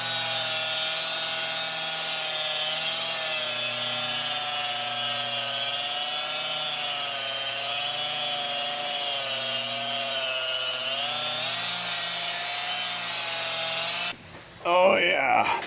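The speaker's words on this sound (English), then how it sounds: "I'm putting that on a foam pad and using a powered polisher" A powered polisher with a foam pad runs on a gel coat mold for a composite flange, a steady close whine that wavers slightly in pitch before cutting off into brief clattering handling sounds.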